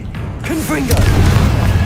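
A Confringo explosive spell cast in Hogwarts Legacy: a short whooshing launch followed by a loud, rumbling boom that lingers as a low roar to the end, with a voice casting the spell.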